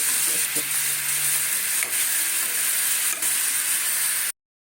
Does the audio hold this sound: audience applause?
no